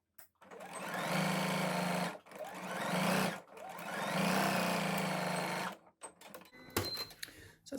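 A sewing machine stitches the side seam of a shorts pocket in three long runs of steady whirring, separated by brief pauses, followed by a few small clicks and handling sounds.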